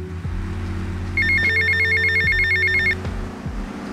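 A telephone rings in the video game GTA Vice City, one bright trilling burst over a low background hum, heard alone with no voices.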